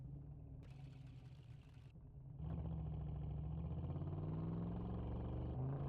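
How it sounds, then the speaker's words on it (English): A restored Ford Mustang engine labours through a brief crank that stops, then catches and settles into a steady, loud running rumble that carries on to the end. "Let's turn the engine on."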